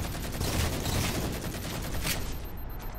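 Turret gunfire in the multiplayer video game Halo: MCC, a loud, continuous rapid burst of shots with rattling impacts, briefly thinning near the end.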